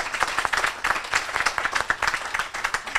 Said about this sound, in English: I'd love to give everybody a round of applause.